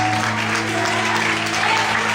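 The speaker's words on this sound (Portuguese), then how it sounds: "Todos podem aplaudir e exaltar o Senhor bem forte." Congregation applauding loudly during a Portuguese-language church service, dense sustained clapping from a large crowd filling the whole stretch with a steady low hum underneath.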